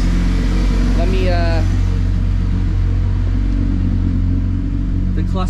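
An Acura RSX AWD car engine idles steadily, a loud, continuous low rumble close by, with a brief higher whine partway through.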